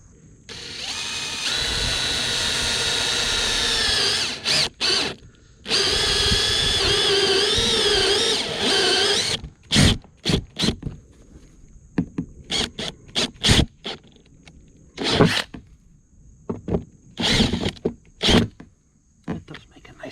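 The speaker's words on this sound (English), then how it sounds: "But we're going to drill a hole, I think, right here." A stepped drill bit bores a hole in a dented OEM Jeep Wrangler bumper. A loud, sustained whining drill run is followed by a long stretch of short, choppy bursts, with talking heard partway through.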